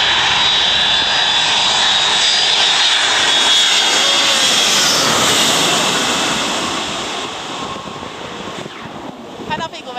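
A small airplane passes low over Fuyuan Street near Zhishan Garden. Its loud, full engine roar swells overhead, then fades as it moves away, with faint voices nearby.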